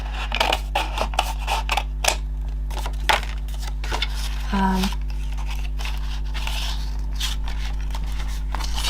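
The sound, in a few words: scissors cutting paper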